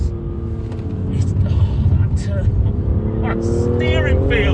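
A BMW M2 CS with a manual gearbox drives along, its engine a steady low rumble from inside the cabin that rises slightly in pitch, while someone talks continuously over it.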